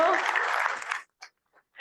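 A room of attendees gives a round of applause for a student panel at a college career event, a dense burst of clapping for about a second that stops abruptly, followed by a few faint scattered sounds.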